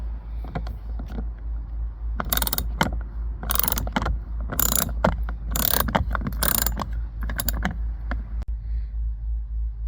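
A hand ratchet fitted with a Torx socket and small extension backs out a T30 screw from a Dodge Journey front door panel, giving close, loud bursts of rapid clicking with pauses between strokes.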